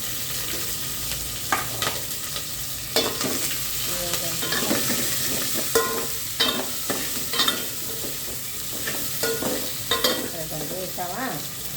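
Green chillies fry in a pan for a dal, a steady close sizzle broken by repeated stirring scrapes and small clinks every second or so.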